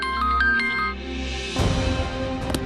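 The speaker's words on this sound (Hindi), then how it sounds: "किसका फोन है" A phone rings indoors with a repeating electronic tone that cuts off after about a second, followed by a muffled burst of background music and noise in a TV drama scene.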